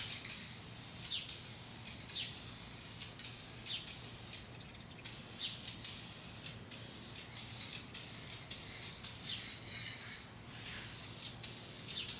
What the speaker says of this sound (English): he's using a spray can